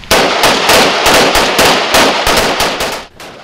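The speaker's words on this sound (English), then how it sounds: "gentlemen, commence fire, please" Loud, continuous automatic gunfire at a Battlejacket body armor test, rapid shots packed into steady bursts with barely a gap for over three seconds.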